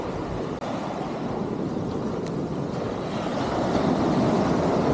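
Sea waves wash continuously onto the shore of an abandoned beach, a loud, steady broadband surf roar with some wind rumble that swells slightly toward the end.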